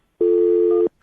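A single steady telephone call tone sounds during a radio show call, one long clean ring-back note lasting under a second, loud and alone, then silence.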